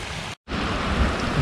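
Heavy rain pours down during a thunderstorm in a dense, steady roar close by, broken once by a brief dropout.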